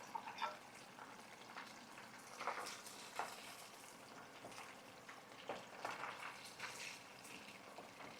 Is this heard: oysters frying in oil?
yes